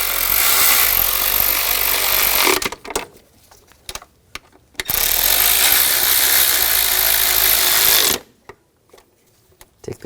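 A ratchet tightens the two screws on an idle air control valve of a 2000-2006 BMW X5 3.0L, in two loud, dense, sustained bursts of rapid clicking separated by a quiet gap, with no talk.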